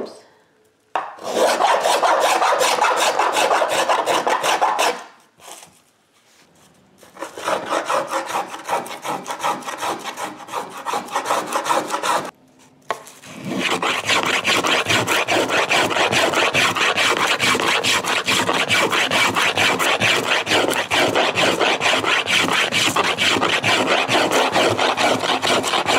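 Violin wood being carved and rasped by hand, with long runs of steady, close scraping strokes broken by two short pauses, the rasping growing loud and continuous toward the end.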